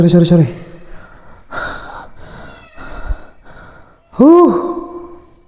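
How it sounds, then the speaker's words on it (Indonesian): A small kitten gives a short, high rising meow near the end, after breathy gasps and bits of talk. "kucing ternyata Pak, anak kucing Pak."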